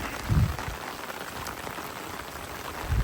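Steady rain falls outdoors on a durian orchard, a constant close hiss on surfaces, with a couple of low thumps near the start and end.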